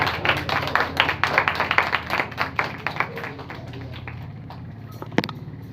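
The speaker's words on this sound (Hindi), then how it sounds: "अपने हाथों को लहराएं और खुदावंद यीशु मसीह के लिए जोरदार तालियां दें" A congregation at a Sunday church service claps loudly in a fast, even rhythm for about four seconds, then the clapping trails off into quieter room noise with a brief sharp knock near the end.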